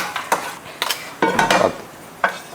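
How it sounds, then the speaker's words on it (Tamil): Cashews are lightly roasted in a pan for a masala, with a spoon scraping and clinking against the metal in several short, sharp bursts at close range. "ஒரு 10லேருந்து 15 முந்திரி லைட்டாக நம்ம வறுத்துட்டு அதையுமே எடுத்து இந்த மசாலாவோட சேர்த்துடலாம்."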